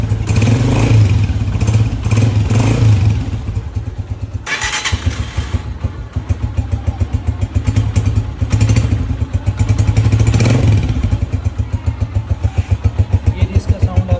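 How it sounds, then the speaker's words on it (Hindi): A Honda 125 motorcycle engine runs after a tappet adjustment, a loud close idle with a steady mechanical clatter and brief revs, while someone talks over it throughout. "हमने टेपर एडजस्ट किए थे तो अभी आप इनका साउंड सुन सकते हैं।"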